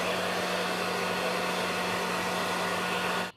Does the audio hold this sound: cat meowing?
no